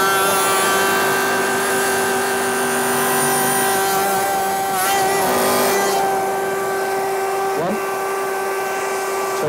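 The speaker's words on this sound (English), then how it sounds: "Router is on." A router spinning an Axcaliber offset tenoning cutter emits a loud, steady high whine with strong tonal harmonics, a dust extractor likely running, plus a couple of brief swells as the cutter engages.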